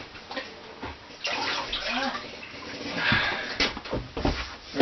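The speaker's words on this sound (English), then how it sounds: "Right now I'm doing the water wash" Water washing and rag wiping on the interior walls of an RV, a steady wet swishing and sloshing scrub that rises and falls close by, with brief louder swipes throughout.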